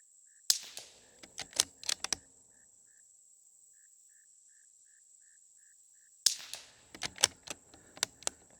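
.22 rifle fired outdoors with suppressed and unsuppressed shots in two quick strings of sharp cracks, several in each, separated by a long pause. Crickets chirp softly throughout.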